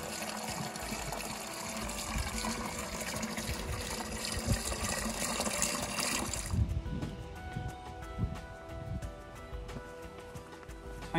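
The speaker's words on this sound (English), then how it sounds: "it's now finally time to water. Give a full can per pot." Water from a watering can gushes in a steady, close stream onto a potted bare-root rose, a full can poured into the dry compost, the splashing shifting in tone partway through.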